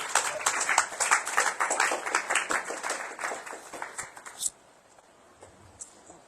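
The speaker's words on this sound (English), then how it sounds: "Tali bajao. Clapping." Audience applause at a spiritual retreat morning program, dense rapid clapping from many hands that fills the room, then stops abruptly, leaving a quiet hall with faint residual noise.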